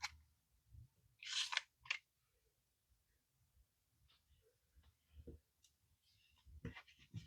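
Scissors snip paper for a weekly planner spread, giving a few crisp close cuts in a quick cluster followed by scattered softer clicks and paper handling in a quiet room.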